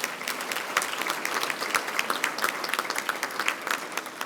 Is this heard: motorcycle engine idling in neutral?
no